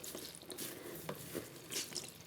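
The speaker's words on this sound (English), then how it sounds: "So you can actually just squeeze him everywhere, make the water come out." Water squeezed out of a soaked Sonic plush toy over a bathtub, heard as a steady wet trickle with soft splashes and a few louder sloshing bursts, fairly close and continuous, with no talking.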